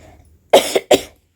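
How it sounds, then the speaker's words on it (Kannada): Two sharp coughs in quick succession, close and fairly loud, with quiet before and after. "ಕೆಮ್ಮು ಇದೆ ಏನೋ ಅಂದ್ಕೋಬೇಡಿ"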